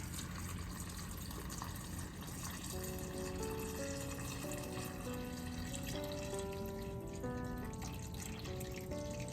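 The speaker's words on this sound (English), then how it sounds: "I'm gonna start adding broth to this now" Broth pours into a pot of chicken and dumplings with carrots and celery, a continuous liquid splashing and gurgling whose pitch climbs in steps as the pot fills, steady and close throughout.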